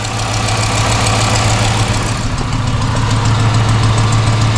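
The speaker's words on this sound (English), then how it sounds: "one thing I can hear is an exhaust leak. I don't know if it's coming from the flange or the header." Dodge Magnum fitted with JBA headers idling with an exhaust leak, giving a loud, steady engine drone with a faint ticking pulse throughout, close by and with no talking.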